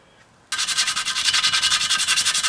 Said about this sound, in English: that's where I'm going to see if that 100 grit is any good